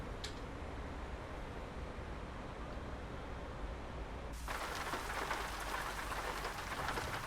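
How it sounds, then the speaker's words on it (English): Steady rain falls in a truck simulator video game, a constant wash of hiss that grows suddenly louder and brighter partway through, with no voices. "Oh, we're out in the rain."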